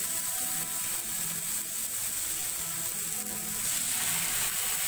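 Tandoori chicken pieces sizzling in a frying pan, a steady, fairly quiet crackle and hiss that runs without a break from start to end, with no voices.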